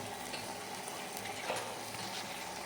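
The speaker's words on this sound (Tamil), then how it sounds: "இப்போ நம்ம இதில் புரி புளி கரைசல் ஊற்றுறோம்" Tamarind solution poured into a hot pan for a garlic and curry leaf kara kuzhambu, sizzling and bubbling steadily at a soft, close level with faint stirring.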